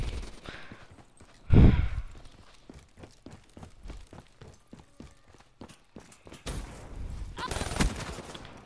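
Rapid gunfire rattles through a match of Black Ops 3, with steady repeated shots, a loud blast near the start and denser bursts toward the end, alongside footstep-like thuds.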